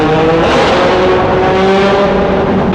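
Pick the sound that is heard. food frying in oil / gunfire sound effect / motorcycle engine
motorcycle engine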